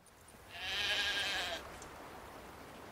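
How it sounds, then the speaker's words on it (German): A single sheep in the video game The Witcher 3 lets out one wavering, drawn-out bleat of about a second, clear and fairly close over a quiet ambient background, with no speech. "Wie ruft man eigentlich ein Schaf?"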